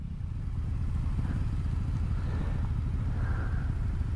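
A Honda Rebel motorcycle passes nearby with a steady, loud engine rumble that holds for several seconds without fading.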